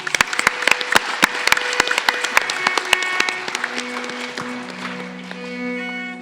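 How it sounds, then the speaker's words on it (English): Audience applause for dancers at a Bharatanatyam arangetram, loud and sustained with sharp individual claps standing out, a steady tone entering toward the end as the clapping thins. "Let's give these ladies another round of applause."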